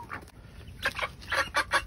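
Several hens cluck close by at a backyard coop, with short bursts of clucking and soft rustling and no voices.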